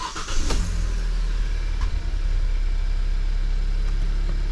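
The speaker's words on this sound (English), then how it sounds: "You turn the car on." A 2018 Hyundai Tucson starts up, with a short cranking burst that settles into a steady low idle rumble, close and with no talking.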